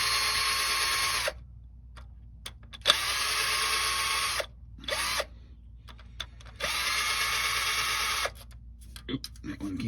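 Power drill on a 1969 Buick Skylark backing out screws in three long whirring bursts with short pauses and small clicks between, close and loud.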